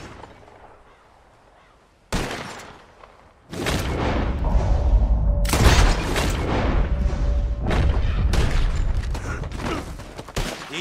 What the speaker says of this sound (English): Whoever shoots more of these bottles wins. Just draw your gun and aim when you're ready